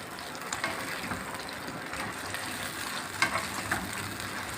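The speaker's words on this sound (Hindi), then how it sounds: "इसको अरबी को हमने तकरीबन 3 से 4 मिनट तक फ्राई करना है" Taro (arbi) pieces fry in a pan, giving a constant soft sizzle with light scraping and clicking as they are moved about, close and even in level, no talking.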